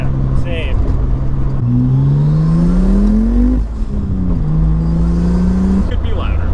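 A Nissan Z (Datsun) sports car running an RB engine, its loud drone rising and falling through a couple of rev swells, with people talking over it close by.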